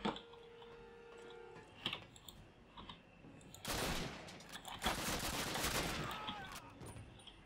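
Bursts of automatic gunfire crackle in a Call of Duty match, coming in two loud clusters midway through over a low game backdrop, with lighter clicking before them.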